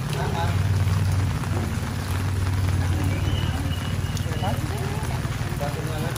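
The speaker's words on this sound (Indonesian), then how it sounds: "Hujan guys." Rain falls steadily around a café, a continuous pattering hiss close by, with a low hum underneath and people talking faintly in the background.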